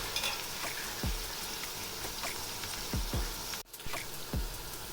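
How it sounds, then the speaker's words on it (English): Onions frying evenly in a pan with added mutton fat give a steady, soft sizzle, with a few low thumps of stirring or tapping now and then and a brief drop in the sizzle near the end. "wait for the onions to turn golden brown"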